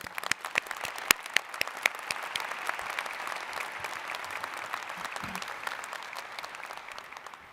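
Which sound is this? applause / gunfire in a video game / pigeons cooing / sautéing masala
applause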